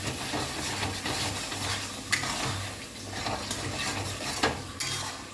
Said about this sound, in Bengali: একটু জল নিয়ে এটার সাথে এবার এটা একটু কষাতে হবে।